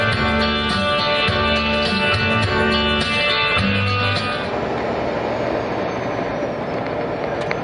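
A train rumbles loudly past nearby, with steady rhythmic clatter of wheels over rail joints that fades into a broad, rushing roar.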